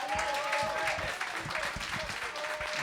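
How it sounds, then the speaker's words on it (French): An audience applauds a performer at a small live stage show, a short burst of dense clapping that sounds close and fairly loud, with voices mixed in. "une bonne main d'applaudissements pour Kevin"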